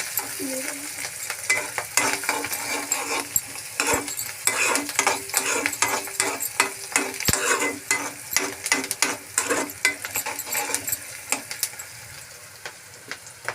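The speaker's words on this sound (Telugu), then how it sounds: "ఆల్రెడీ మనం ఆనియన్స్ అయితే ఇంతకుముందే వేసాం కదా, వేగుతున్నాయి." Onions frying in a pan with chicken and a few green chillies give a steady close sizzle, broken by frequent scraping and stirring clicks of a utensil, with no talking.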